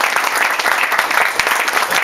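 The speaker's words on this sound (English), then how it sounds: "I'm going to get another round of applause" Steady applause from a crowd at a political fundraiser, a dense wash of clapping filling the room for the full two seconds, loud and continuous with no talk over it.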